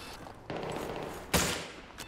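Gunfire in Battlefield 3 multiplayer, two or three sharp shots cracking out over a busy background of distant battle noise, the loudest blast near the middle of the short stretch and a smaller one at the end.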